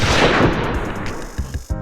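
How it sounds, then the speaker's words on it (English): A loud gunshot blast from a film booms at the start and rolls off, followed by a few shorter, sharper shots or impacts close together. "Reggie shoots Billy."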